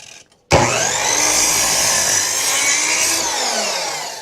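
Wood being sawn at a 45-degree angle for a birdhouse piece, a loud, steady rasping saw noise starting abruptly and running continuously to the end, close by with no talk.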